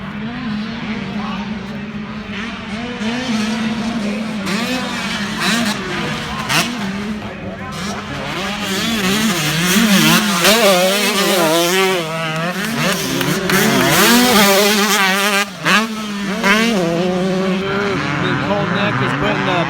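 Two-stroke racing engines at a championship race pass nearby, their loud buzzing whine rising and falling with throttle changes. A commentator talks over the engine noise throughout.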